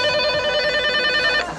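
A telephone bell rings steadily and loudly through nearly the whole moment, a sustained ringing tone that cuts off abruptly near the end, with no talking over it.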